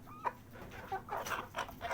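Several chickens cluck softly in quick, irregular bursts, close by but quiet, with faint background hum.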